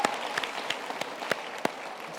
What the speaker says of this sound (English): I think we should give a hand of applause.